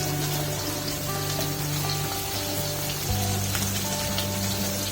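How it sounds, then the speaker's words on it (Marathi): Pomfret fish frying in a pan gives a steady, close sizzle with watery bubbling, continuous and even throughout, with no voices. "एका साईडने तळून झाल्यावरती दुसऱ्या साईड चेंज करायची आहे पहिल्यांदा एका साईडने भाजून घ्यायची आहे व्यवस्थित"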